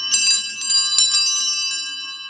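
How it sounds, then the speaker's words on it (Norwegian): Small handbells rung in church for the Gloria of the Holy Thursday liturgy make a bright, close, continuous jingling with sustained ringing tones and a few sharper strikes, loud and alone without voices. "Vi synger Gloria med bjeller"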